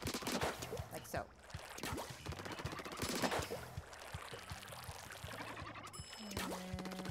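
Dualies firing in the video game Splatoon 2, quick repeated squirting shots in short bursts, with splats, pings and ink sloshing, a soft voice talking underneath.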